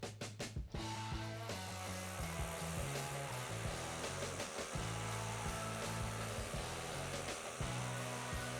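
A power drill bores into concrete with a loud, steady grinding whine that wavers in pitch as the bit bites, running continuously without any talking.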